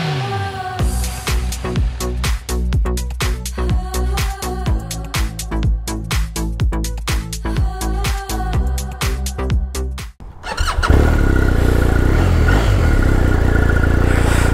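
The flat-twin engine of a BMW R1250R motorcycle pulses in a rapid, uneven run of close mechanical beats for about ten seconds, then gives way to a steady, loud roar of riding.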